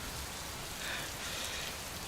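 Heavy, steady downpour, a dense, even hiss of rain falling on surfaces, continuous and enveloping with no pauses.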